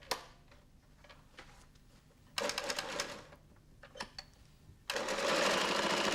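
A carpet-binding sewing machine puts a few stitches of Perlon velour tape into a carpet corner in short mechanical bursts, one around the middle and a louder run at the end, with quiet handling clicks between.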